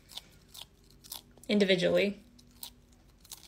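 A chameleon crunches a hand-fed bug, a short dense burst of chewing and crunching about half a second long, heard close up between quiet stretches and brief bits of speech.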